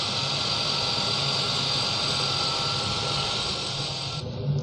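A V8 truck engine fitted with HHO hydrogen-oxygen gas injection runs at a steady drone with a high whine over it, loud and close, easing off just before the end.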